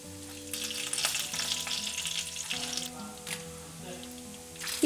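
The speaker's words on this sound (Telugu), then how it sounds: "ఫ్లేమ్ లోలో పెట్టుకొని 85 గ్రాముల మినప్పప్పు దోరగా వేయించుకోండి" Urad dal fries in oil over a low flame, a continuous close sizzle and bubbling crackle under a faint steady hum, with a sharp clink at the end and no speech.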